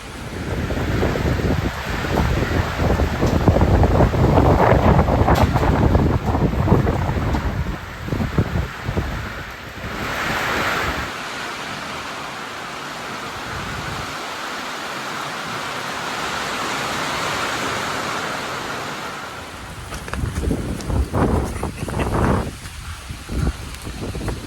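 Gusty wind roars across the microphone with a steady wash of heavy rain, rising and easing over time, no voices.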